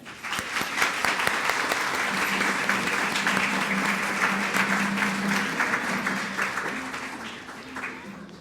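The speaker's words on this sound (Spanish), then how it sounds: "Un aplauso para los niños." Sustained applause from a church congregation honoring the children during a Sunday Mass, steady dense clapping lasting several seconds, fairly loud and close, with a low murmur underneath.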